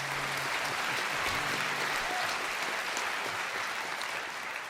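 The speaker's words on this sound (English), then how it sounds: "Please give her a big round of applause" An audience claps for a singer at a live country music show, with steady, dense applause that fills the whole stretch at an even, loud level and only tapers slightly at the end.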